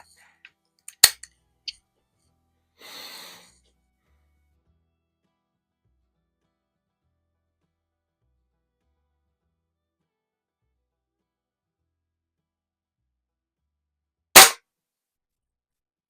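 Vintage match air pistols, a Feinwerkbau 65 and a Baikal IZH-46M, fire during target shooting: two sharp, isolated cracks about thirteen seconds apart, separated by near silence and a few faint handling clicks.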